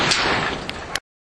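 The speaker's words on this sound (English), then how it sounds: "that sound you're hearing is me opening and closing the doors on my rickety old tin shed" Rickety old tin shed doors scrape and rattle open and shut in a backyard, a harsh continuous metallic rush with a few sharp knocks, then ending abruptly in silence.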